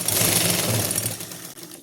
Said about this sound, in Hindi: यहाँ पे इस जगह आपको पॉइंट की सिलाई लगानी है।